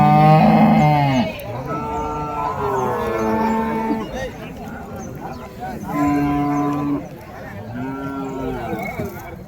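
Cattle lowing at a rural livestock market for native breeds and bulls, several long, loud moos in sequence, close by, with crowd noise in the background.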